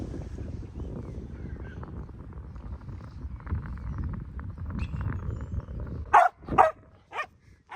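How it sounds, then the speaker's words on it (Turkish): A dog barks a few times near the end, close and loud, after a stretch of low rumbling engine and wind noise on a golf course. "Bizimki havlıyor."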